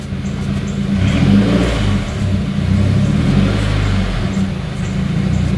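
The engine of a 2020 Subaru WRX, just swapped to a six-speed manual, revs steadily and loudly from close by as the car pulls away in first gear.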